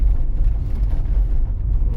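A car pulling away quickly from a green light at a city intersection, a short loud burst of low engine rumble and road noise close by, with no talk.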